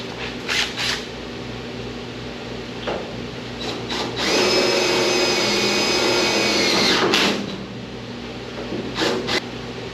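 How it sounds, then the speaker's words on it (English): A spot weld cutter bores out spot welds on a rusty car roof skin. Short bursts of tool noise give way to a steady high-pitched whine of several seconds, followed by more brief bursts and clatter. "do the spot weld cutter and get that stuff cut out of here"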